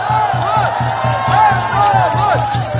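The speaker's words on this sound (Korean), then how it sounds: "큰 함성 부탁드릴게요." A street rally crowd in Bupyeong's youth street, Incheon, cheers and shouts over an amplified pulsing music beat, with rising whistle-like tones and crowd roar blended throughout.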